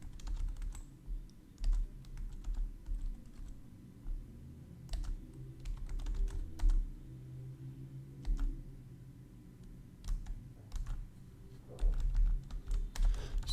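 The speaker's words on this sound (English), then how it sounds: "So let's type little by little." Someone types on a computer keyboard during a timed competitive programming contest, in irregular bursts of close keystroke clicks with brief pauses and a low rumble underneath. No speech is heard.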